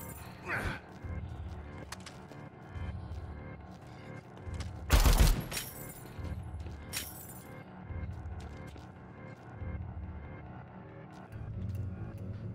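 Gunfire in the zombie video game Dead Rising 4, with a brief loud burst of shots and cracks amid low rumbling game noise and scattered impacts, with a player's voice now and then.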